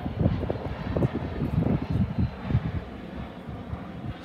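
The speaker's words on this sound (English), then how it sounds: "Oh, there's an airplane." Propeller or jet airplane passing overhead outdoors, a steady broad rumbling drone with wind buffeting, fairly loud and continuous with no voices.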